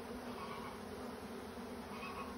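Bees buzz steadily around a Flow hive during a swarm, a faint, continuous hum with no voices.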